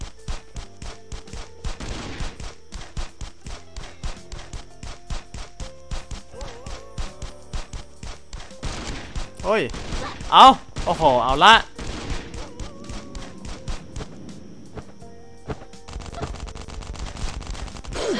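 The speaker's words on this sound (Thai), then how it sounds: "มีเสียงปืน" Gunfire in a video game: a long run of rapid sharp shots with bursts of louder fire near the middle, while a man exclaims over it.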